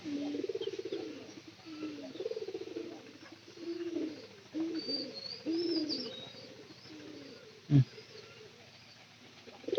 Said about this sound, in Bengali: ঘরের ভিতরে কবুতর গেছে না